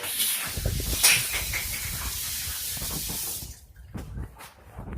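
A kitchen tap runs steadily in a loud, close hiss while hands are washed under it, then cuts off abruptly, leaving a few faint clatters.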